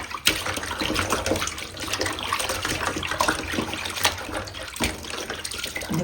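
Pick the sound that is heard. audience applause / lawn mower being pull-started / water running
water running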